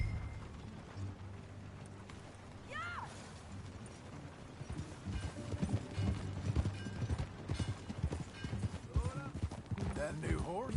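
Horse hooves clip-clop at a steady trotting rhythm under a busy Red Dead Redemption 2 game soundscape, with voices talking over it and a brief whinny-like cry.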